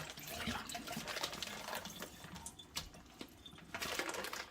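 Juice drains and trickles from a thawed Thanksgiving turkey as it is lifted, a faint, close, continuous watery splashing with soft handling noises.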